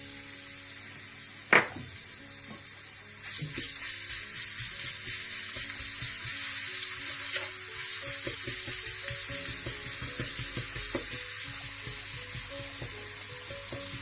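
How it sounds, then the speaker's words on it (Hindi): Steady sizzling of crushed garlic frying in hot oil, with a sharp clatter near the start and occasional stirring scrapes and pops throughout. "इसमें आप कुटा हुआ लहसुन डाल दें।"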